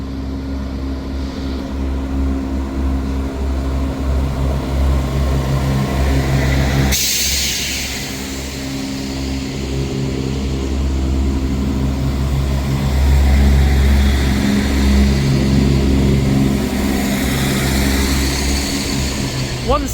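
A ScotRail train, the service from Glasgow Queen Street to Aberdeen, departs Perth Station with a loud, sustained low engine drone and rumble that swells and shifts over time, with no voices.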